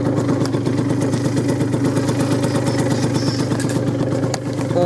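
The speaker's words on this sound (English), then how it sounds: "I'm just kind of waiting for my bike to warm up." A motorcycle engine idles as it warms up, holding a steady, rhythmic, loping putter with a mechanical clatter. It sounds close and loud and runs on its own without talk.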